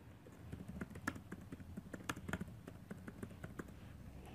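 Typing on a computer keyboard for a Word business-card design, a steady run of quick soft key clicks with irregular rhythm, faint and close, with no voices.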